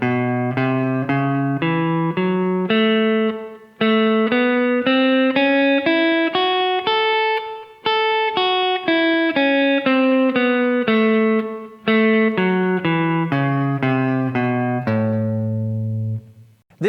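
Guitar runs a major pentatonic line with an added chromatic passing tone between the second and third degrees, a bluesy minor-third touch, in a steady stream of clear picked notes rising and falling over about seventeen seconds, played alone.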